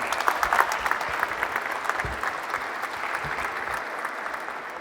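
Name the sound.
applause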